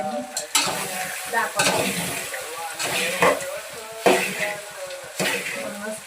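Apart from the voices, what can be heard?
spoon stirring puffed rice in a pan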